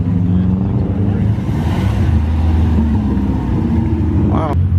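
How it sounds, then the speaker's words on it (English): A Cadillac Escalade V rumbles past at a night street meet with a loud, deep engine drone. Voices talk over it and other traffic noise sits in the background. "That's a Escalade V."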